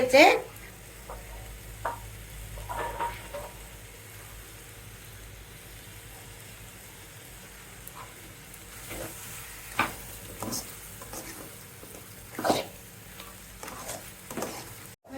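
A cabbage and crab curry gently sizzles in a pan while a utensil stirs it, with scattered scrapes and clinks over a soft, steady frying hiss as coriander leaves are added near the end of cooking.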